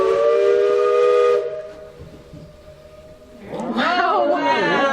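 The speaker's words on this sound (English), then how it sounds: "We call it Echo Valley, and I'll blow the whistle a couple times and you'll see why we call it that." A train steam whistle blows loud and sustained in Echo Valley, then fades into a quiet gap before its echo returns across the valley, followed by excited voices reacting.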